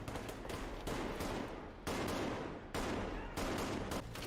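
Bursts of dense, rapid gunfire in long sustained volleys separated by brief pauses, loud and harsh like a movie battle scene, from the 2015 film Sicario.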